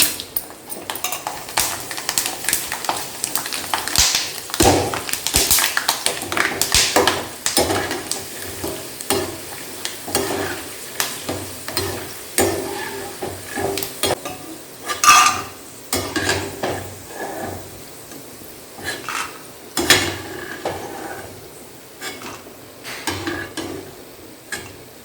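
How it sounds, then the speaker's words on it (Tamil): Sun-dried brinjal fryums frying in refined oil in a kadai, a loud, continuous crackling sizzle close up, broken by repeated metallic scraping and clinks of a ladle stirring against the pan. "கொஞ்சம் போட்டு பொரிச்சிடலாம்."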